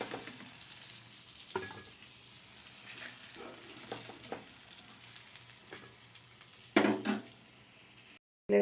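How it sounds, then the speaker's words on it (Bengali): Pointed gourd (potol) pieces frying in oil, a low steady sizzle throughout with occasional stirring scrapes and a louder burst of clatter near the end. "খুব ভালো করে ভেজে তুলে নেব।"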